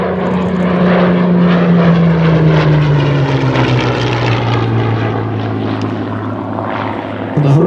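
The piston engine of a Hawker Hurricane fighter roars loudly and continuously during a flying display, its droning pitch slowly sliding lower as it passes.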